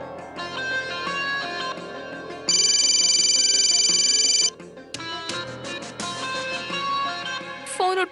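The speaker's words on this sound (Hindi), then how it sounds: "फोन उठा लो" Telephone ringtone in a TV drama scene, a loud bright electronic ring lasting about two seconds, with melodic music and tones before and after it.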